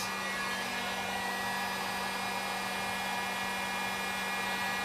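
A heat gun blows hot air steadily onto duct tape stuck to car paint, making a continuous, even whooshing hum with a low tonal drone and no breaks.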